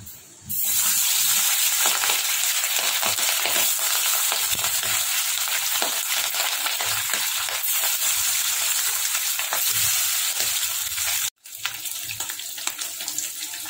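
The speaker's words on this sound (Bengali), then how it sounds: "মাছগুলো নুন হলুদ মেখে নিয়েছি ভালো করে। এবার মাছগুলো আমি ভেজে নিচ্ছি।" Hilsa fish rubbed with salt and turmeric fries in hot oil, a loud, continuous crackling sizzle close by that runs without pause before cutting out briefly near the end and resuming.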